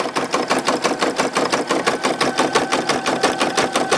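A Brother PE770 embroidery machine stitches at a steady, fast mechanical rhythm, its needle clattering in even repeated pulses, close and loud with no talking.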